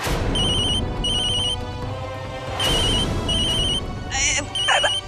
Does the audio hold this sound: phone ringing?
yes